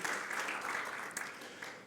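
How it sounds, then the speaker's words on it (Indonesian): A church congregation claps together in sustained applause during a Sunday worship service, a steady and fairly faint wash of hands that fades slightly toward the end. "Mari tepuk tangan lagi bagi Tuhan Yesus."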